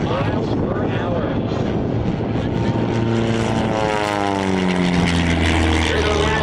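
Propeller aerobatic airplanes roar overhead at the Oshkosh airshow, a loud continuous engine drone that sweeps in pitch as they pass, with a commentator talking over it.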